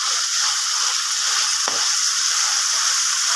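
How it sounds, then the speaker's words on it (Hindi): Chicken sizzles steadily as it fries with ginger paste in a pan, a constant close hiss with one brief scrape of stirring midway and no voices. "दो मिनट के लिए थोड़ा सा फ्राई करूंगी चिकन को"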